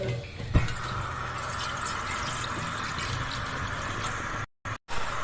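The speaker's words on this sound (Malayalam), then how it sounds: "ഏകദേശം 1 ലിറ്റർ വെള്ളം ഒഴിക്കുന്നുണ്ട്." About a litre of water is poured into a cooking pot for pasta as a steady, continuous rushing fill with a brief clink near the start. The flow cuts off abruptly twice just before the end.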